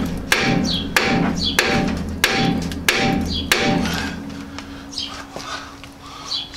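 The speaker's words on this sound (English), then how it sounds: "I'm really just letting the weight of the hammer do it, more than me swinging at it at this point right now" A hammer taps repeatedly on a seized steering knuckle of a Jeep XJ, giving five sharp metallic strikes at a steady rhythm, then a pause, softer scraping and a few lighter knocks.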